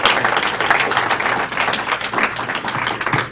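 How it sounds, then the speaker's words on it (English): Audience applause at a talk event, a dense sustained wash of many hands clapping, loud and close, continuing steadily throughout without speech. "please give a round of applause to our friend today, George Lakoff"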